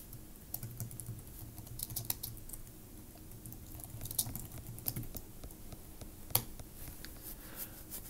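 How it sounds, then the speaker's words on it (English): Soft, close typing on a computer keyboard, a quick irregular patter of key clicks with a few sharper taps, heard alone in a quiet room. "I'm going to type the first alinea."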